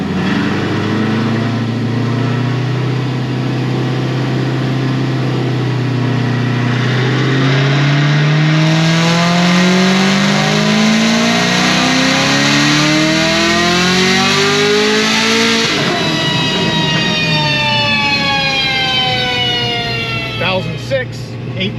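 A Procharged Camaro ZL1 with an F1A-94 supercharger roars on a dyno, its loud engine note and whine climbing steadily in pitch through a long full-throttle pull, then dropping sharply as the throttle closes and the revs fall away.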